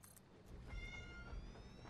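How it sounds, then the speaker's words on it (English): An indoor cat meows faintly in the background, a drawn-out, quiet call that sounds distant against low room noise. "Don't be meowing, dude. You meow all day."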